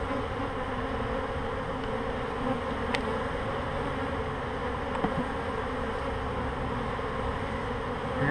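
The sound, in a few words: bees buzzing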